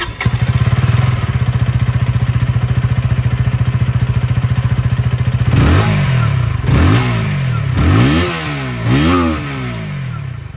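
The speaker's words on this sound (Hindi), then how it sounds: "अब मैं आप लोगों को यहाँ पर KTM ड्यूक 160 की जो साउंड है ये भी मैं आप लोगों को सुना दूँ" A KTM Duke 160 motorcycle with an underbelly exhaust idles with a steady, throbbing putter, then revs sharply four times in quick rising-and-falling bursts. The sound is close and loud, with no talking.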